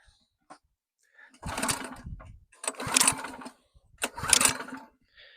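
Someone tries to start an old working engine unit by hand at a market stall, giving three separate bursts of cranking and sputtering, each lasting about a second, with quiet pauses in between.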